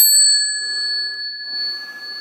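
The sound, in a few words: metal meditation bell struck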